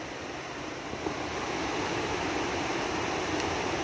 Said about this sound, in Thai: ชมน้ำตก น้ำตกตาดเนาะ ยินเสียงบ่ทุกคน ยินเสียงบ่